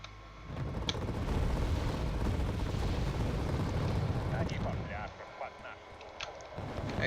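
Artillery fire in Wargame: Airland Battle rumbles as dense, overlapping booms and explosions, a sustained barrage that thins into scattered blasts with a brief lull before resuming.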